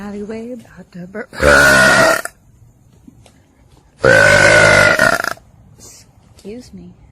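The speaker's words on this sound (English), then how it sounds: "Walking down an alleyway about to burp." A girl burps twice, loudly, each belch long and croaking and lasting about a second. Short bits of her speech come between them.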